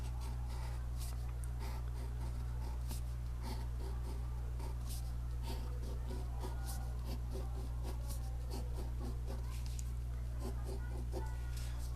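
Pen or marker drawing and coloring in a fraction picture on paper, faint scratchy strokes repeating in quick bursts over a steady low electrical hum.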